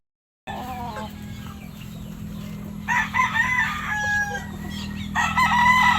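An eight-month-old F1 Sweater gamefowl rooster crows in a backyard, repeated nearby crows rising over a constant low hum and farmyard background.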